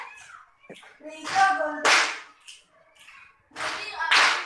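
A class of sixth-grade children claps in short, sharp bursts during a concentration clapping game, several quick claps separated by pauses, mixed with children's chanting voices.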